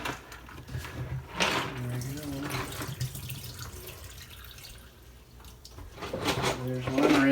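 Tap water rinsing soap off a Telecomet Japanese terminal, splashing and running in uneven bursts with clattering as parts spin and knock, while a person talks intermittently over it.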